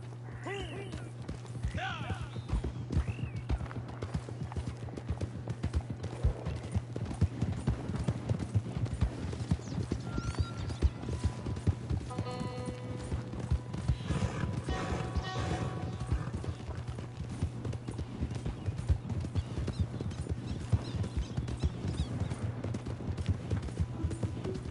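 Horse hooves clip-clop in steady rhythm in the Red Dead Online video game on PS5, under a constant low hum, with occasional metallic clinks and a possible faint whinny.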